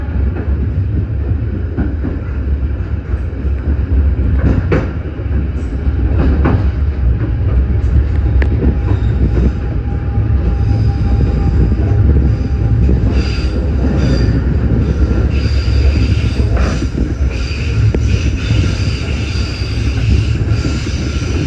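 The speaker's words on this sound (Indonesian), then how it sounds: "kita naik kereta api komuter lain Jenggala" A Jenggala commuter train rolls loudly past the Wilmar factory in Indonesia, with a heavy continuous rumble, rail clatter and intermittent high wheel squeals over about twenty seconds.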